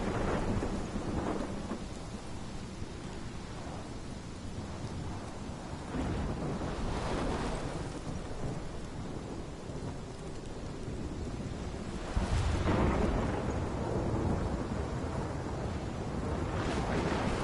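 A thunderstorm rages in the game Life is Strange Remastered, with heavy rain and repeated rolling thunder swelling into louder cracks, a steady roaring wash underneath.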